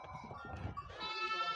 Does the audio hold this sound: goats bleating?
yes